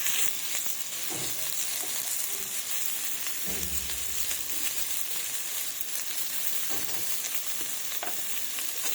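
Fig (dumur) chachchari frying in a pan while being stirred, with a constant hissing sizzle and occasional spatula scrapes and knocks against the pan, steady and close.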